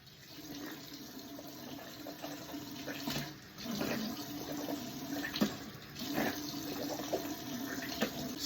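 Tap water runs steadily into a sink while the mouth is rinsed during wudu, a continuous close splashing stream with small gurgles and spits breaking through, no talking.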